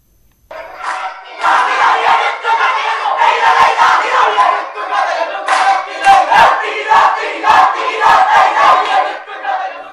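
Large crowd at a Pooram festival Poorakkali performance in Kerala, loud massed rhythmic shouting and chanting in repeated bursts, close and continuous for the whole stretch.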